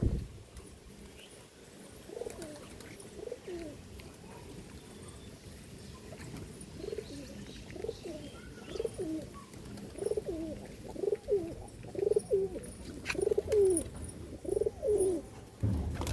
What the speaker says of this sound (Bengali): এই যেটা কালদম পায়রা উঠছে বন্ধুরা, কালপোড়া কালদমের বাচ্চা বিরাট উঠছে